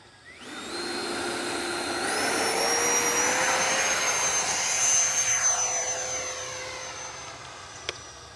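A Freewing Ares 3D Red 90mm electric ducted-fan RC jet on 8S power takes off, its loud, steady fan whine rising in pitch as it throttles up and holding high and close throughout, with no talk.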